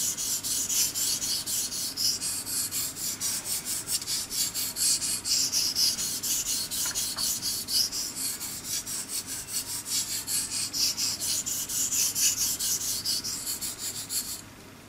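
A blade is drawn again and again across a Belgian blue coticule whetstone, making a continuous, close rasping and rubbing with a steady stroke rhythm. No one speaks.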